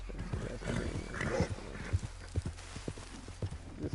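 A horse gallops hard in Red Dead Redemption II, its hooves pounding in quick, uneven thuds close by over a low outdoor rumble.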